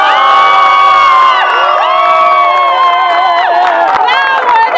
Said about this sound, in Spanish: Aplausos para el pirata con la pata de palo.